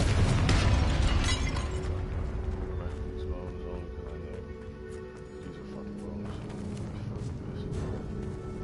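A Confringo spell explosion from Hogwarts Legacy: a loud burst at the start that rumbles and fades over several seconds, with faint magical chimes and another swell of noise later on.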